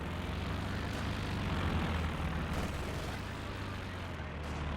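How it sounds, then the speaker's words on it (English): Incendiary artillery shells pound down in a Company of Heroes 2 match, a dense continuous rumble of heavy booms and roaring fire that stays loud and thick throughout without letup. "The incendiary artillery is coming down on the middle VP."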